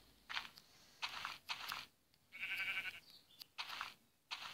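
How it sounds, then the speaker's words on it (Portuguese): Sheep in the Minecraft video game bleat in a series of short, bright calls, about six separate bleats spaced through the clip, fairly close and clear, with no talking over them. "Ah, não, é ovelha."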